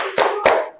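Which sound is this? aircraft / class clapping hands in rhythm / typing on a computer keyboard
class clapping hands in rhythm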